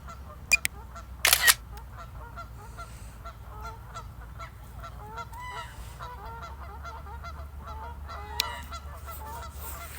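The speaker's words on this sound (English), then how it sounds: "Look at the swans" Geese or swans honk and call repeatedly on a lake at Fairlop Waters, London, over steady low background rumble, with a few sharp camera-shutter clicks and no talk.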